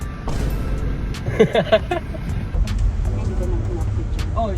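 Passengers ride inside a moving vehicle at Angkor Wat, with a low steady road rumble and occasional knocks and rattles beneath people chatting.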